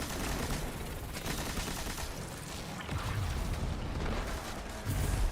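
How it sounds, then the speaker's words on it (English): Video game turret fire rattling in a dense, continuous fusillade of rapid shots, fairly loud and steady throughout with heavier bursts near the end, with no talk over it. "I heard a turret somewhere"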